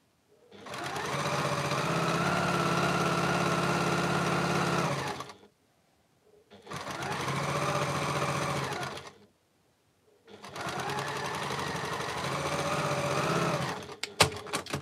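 Sewing machine running a quarter-inch quilt seam on a Sun Prints Chains quilt: three sustained bursts of fast, even motor whir and needle chatter separated by short pauses, close and loud, with a few clicks at the end.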